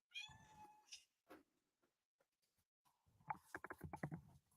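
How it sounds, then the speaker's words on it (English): A house cat meowing close by: a long, drawn-out meow opens, followed by shorter meows, while people talk near the end. "It's my cat."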